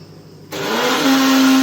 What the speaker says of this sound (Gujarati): મિક્સરમાં ગ્રાઇન્ડર કરી દઈશું.